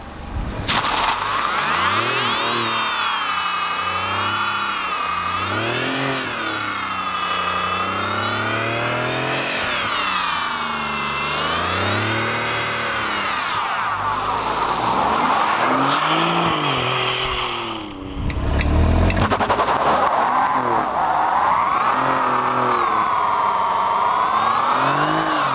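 An Alfa Romeo Giulia Quadrifoglio revs hard in a burnout, spinning a single tyre; the loud engine rises and falls in repeated surges with a brief drop near the end, close and alone with no talk.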